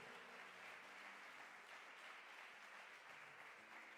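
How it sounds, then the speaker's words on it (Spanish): A church congregation claps together in sustained, even applause, heard faint and somewhat distant with no talk over it. "Dale un aplauso al Señor."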